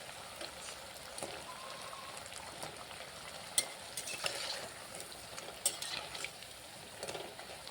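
Semolina and potato snacks fry in a pan with a soft, steady sizzle and occasional faint pops, quiet and continuous.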